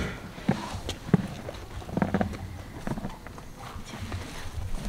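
Horse hooves clopping at a riding club, a few scattered hoof strikes on the ground amid faint stable background noise, fairly quiet and irregular.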